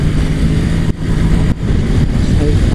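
Honda NC750X motorcycle engine bouncing off its rev limiter, a loud, steady, close engine drone broken by two brief cut-outs.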